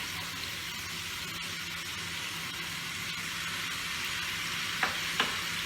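Spices frying steadily in oil in a pan for pabda fish curry, a constant close hiss of sizzle, with a couple of faint clinks near the end and no voices.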